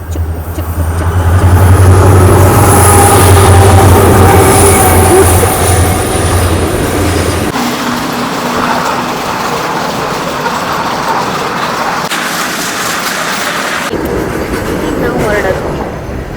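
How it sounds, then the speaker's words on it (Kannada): A train rumbles past close by with a loud steady roar and high metallic whine, then fades to lighter rolling noise as the carriages clear. "ಬಂತು ಬಂತು ಟ್ರೈನು ಟ್ರೈನ್ ಟ್ರೈನು ನೋಡಿ ನೋಡಿ"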